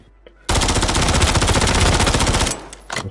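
Sustained rapid automatic gunfire from a Call of Duty Warzone match, a dense loud burst of about two seconds that cuts off abruptly, followed by a couple of fainter shots.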